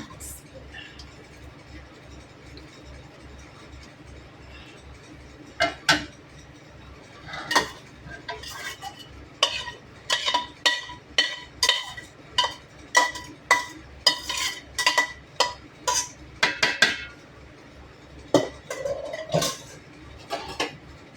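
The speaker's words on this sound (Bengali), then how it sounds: "ভালো করে নেড়ে দেবো" Chicken being stirred into part-cooked rice in a pot for chicken pulao, a run of repeated metallic scrapes and clanks from a spoon against the pot, close and fairly loud, with a faint sizzle beneath.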